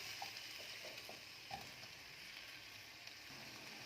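Zucchini fries in a pan with a faint, steady sizzle and a few soft crackles, heard alone at low volume.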